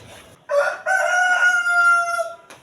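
A rooster from a small backyard flock of laying hens gives one loud, close crow that rises and holds for about two seconds before cutting off, with almost no other sound around it.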